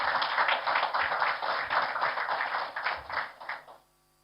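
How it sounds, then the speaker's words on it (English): Audience applause at a Tony Elumelu Foundation event, a band-limited burst of many hands clapping together that pulses slightly and cuts off cleanly just before the end. "Another round of applause, please, for Titi."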